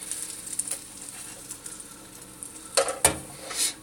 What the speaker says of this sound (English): get the butter around the pan